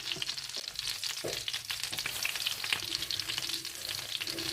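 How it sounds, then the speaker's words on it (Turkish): Grated garlic sizzles steadily in melted butter in a frying pan, a close, continuous crackling fry with soft scattered pops and no voices. "sarımsağımızı rendeledik. hafiften kavuruyoruz"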